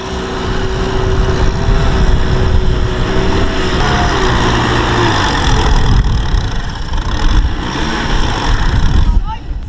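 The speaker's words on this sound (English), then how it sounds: "The tractor carrying rice got stuck in deep mud. The engine roared." A heavy tractor engine roars loudly and continuously for several seconds as the rice-laden tractor is stuck in deep mud, with a droning rumble that shifts slightly in pitch as it strains.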